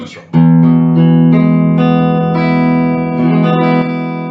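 A Hagstrom HJ800 electric guitar on the neck pickup, volume and tone rolled off, strums a sustained chord, ringing warm and round, then a few more notes are picked over the fading sound; no talking.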